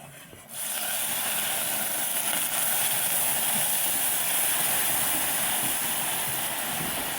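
Milk poured into a hot pan of semolina frying dark brown in ghee and sugar, an abrupt loud sizzling hiss that starts after a brief pause and stays steady and bubbling to the end, no talk.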